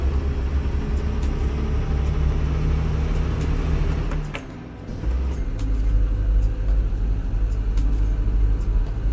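A truck driving in American Truck Simulator, a steady low engine rumble that drops briefly, as if shifting gears, then resumes strongly, loud and continuous.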